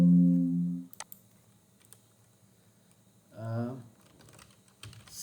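A few scattered keystrokes on a computer keyboard, quiet and irregular, with short tonal bursts at the start and midway.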